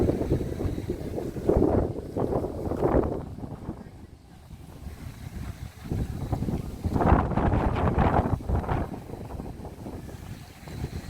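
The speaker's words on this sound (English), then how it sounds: "It's very windy out here" Gusts of wind batter the microphone in loud, uneven bursts, rising and fading over several seconds, at the cruise port in Willemstad, Curaçao.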